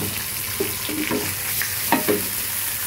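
Pieces of big fish belly sizzle and crackle steadily in hot oil, with a few louder spatters and light stirring scrapes, close and continuous with no talking.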